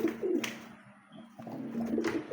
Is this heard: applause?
no